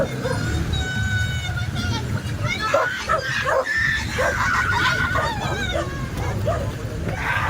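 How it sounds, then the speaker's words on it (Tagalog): Several dogs bark intermittently at moderate distance while people chatter nearby over steady outdoor background noise. "Daming mga aso din oh."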